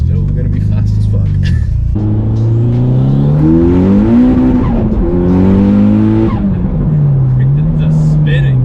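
Loud, straight-piped Mitsubishi Evo X engine revving hard as its tires break loose in second gear, pitch climbing and wavering through the wheelspin with a brief drop and rise, voices talking over it.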